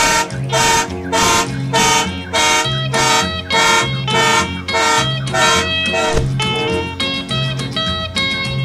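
A train horn blares as a prank in a loud, close series of rapid, evenly spaced blasts, about a dozen pulses that quicken and stutter toward the end, with no talking.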